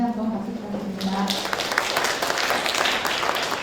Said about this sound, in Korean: 발표해 주신 교수님께 다시 한번 박수 부탁드립니다